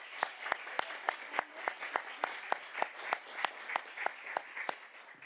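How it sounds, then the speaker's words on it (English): Audience applause at a school board meeting, a fairly faint, sparse round of clapping with distinct individual claps in a steady rhythm, heard from a distance in a meeting room. "Let's give them another round of applause."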